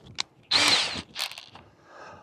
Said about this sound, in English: I can put my drill onto the end of this jack and buzz this thing up